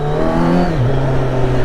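A Kawasaki Z900 motorcycle engine pulls away with a steady, loud, close growl whose pitch dips briefly as it shifts, then holds a strong, even drone.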